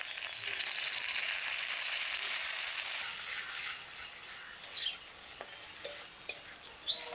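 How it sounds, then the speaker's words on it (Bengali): A 100-gram portion of store-bought chhana fries in a wok with a steady, bright sizzle that soon eases off. Scattered scrapes and clinks of stirring then take over, close up and quiet. "এবার কড়াইতে ছানাটুকু দিয়ে দিব"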